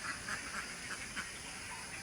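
Pet ducks (itik) quacking at a farm during feeding, with several soft, scattered quacks repeating at moderate distance over a steady background hiss.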